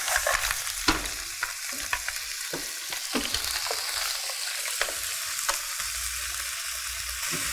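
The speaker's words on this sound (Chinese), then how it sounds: "你就可以开始慢慢开始转大火，让它烧干收汁一下" Mussels with Spanish chorizo sausage sizzle hard in a pan over high heat as the liquid cooks down, a dense steady frying hiss broken by occasional knocks of stirring, with no one speaking.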